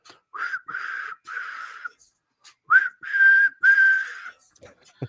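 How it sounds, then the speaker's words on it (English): Several sharp shrill whistle blasts, short and long, in two clusters with brief pauses between, loud and near with faint voices in the background. "Blow the whistle."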